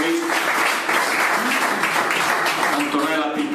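Audience applause at an Italian business seminar, a loud burst of many people clapping close by, mixed with a voice talking over it.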